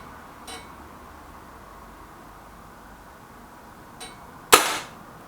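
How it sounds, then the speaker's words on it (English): A single shot from a Kral Puncher Breaker bullpup air rifle, one sharp crack with a short ringing tail, preceded by two faint clicks in an otherwise quiet outdoor setting. "Last shot for the bullpup"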